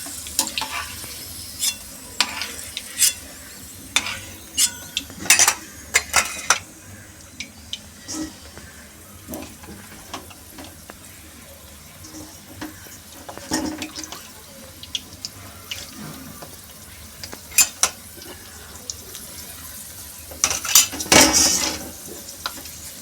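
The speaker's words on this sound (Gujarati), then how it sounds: "મુઠિયા નાખીશું અંદર" Muthiya dumplings fry and get stirred in a pan while making undhiyu, with a close sizzle under repeated scraping clatters and clinks of a spoon against the pan, coming in irregular bursts.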